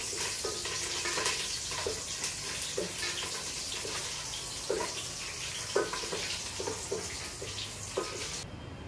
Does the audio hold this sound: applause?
no